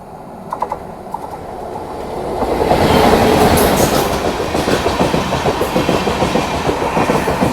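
Trivandrum Rajdhani Express overtaking the Mandovi Express on Indian Railways, rising from a faint rumble into a loud, close roar with rhythmic clickety-clack of wheels on rail joints.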